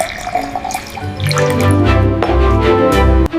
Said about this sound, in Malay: Cikgu tuang pula masuk gelas tinggi ni